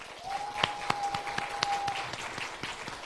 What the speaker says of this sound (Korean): 우리 박수로 크게.